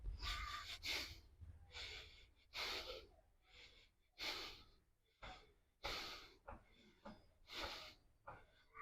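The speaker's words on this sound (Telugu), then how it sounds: "ఈ స్థితిలో 8 శ్వాసలు తీసుకోవాలి." Slow, deep breaths come close to the mic during a yoga back bend held for knee-pain therapy. Eight strong inhale–exhale surges sound at a steady rhythm, with quiet pauses between them.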